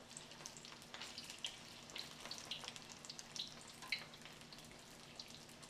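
Kelp-filled parcels fry and splatter in a hot pan, giving a steady sizzling hiss broken by sharp crackling pops that come every second or so, close up and with no talk.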